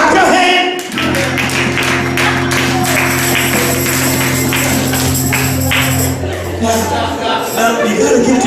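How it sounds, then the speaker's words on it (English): A church congregation claps hands in a dense, continuous patter, with a sustained organ or keyboard tone and voices mixed in throughout. "Clap your hand."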